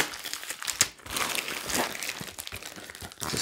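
Taped cardboard packaging of a beer mail delivery ripped open by hand, with rough crinkling, crunching and tearing in uneven bursts, close and fairly loud, and one sharp snap near the start.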